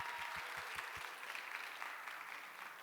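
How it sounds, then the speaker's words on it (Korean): A church congregation at a Sunday youth service claps in welcome, a steady wash of applause that begins with a few distinct claps and then continues evenly at a moderate distance. "우리 인사할 때 여러분 다 같이 사랑과 축복과 환영의 박수 함께 보내드리도록"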